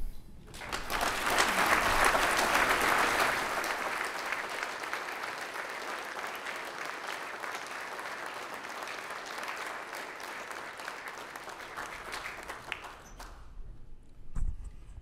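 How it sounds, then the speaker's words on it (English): Loud sustained applause from a large crowd at a football ring of honor ceremony, swelling quickly and clapping steadily for over ten seconds before cutting off abruptly. "Give them a nice round of applause."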